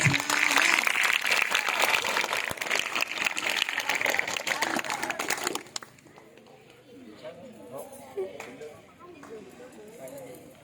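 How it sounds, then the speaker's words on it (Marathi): Loud, dense applause from a crowd at the opening ceremony of a school sports meet, roaring for about five seconds before cutting off abruptly to quieter hall sound with a voice speaking. "जोरदार टाळ्या झाल्या पाहिजे."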